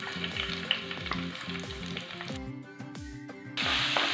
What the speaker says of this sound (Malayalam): നമുക്കിതിലോട്ട് ഇഞ്ചി വെളുത്തുള്ളി ഇട്ട് കൊടുക്കാം.